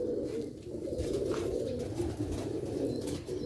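Rooftop loft pigeons coo steadily in a low, continuous murmur, several birds overlapping close by with no pauses across the whole stretch.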